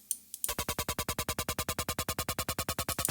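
A Serum synth pluck with mirror warp switched on, repeating as a fast, steady stream of bright, crunchy, buzzy notes, loud and close, after a short quiet start.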